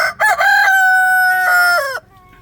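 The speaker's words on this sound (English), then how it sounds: "roosters crowing first thing in the morning" A rooster crows loudly and close by, a long drawn-out cock-a-doodle-doo with a rising start, then fades to quiet.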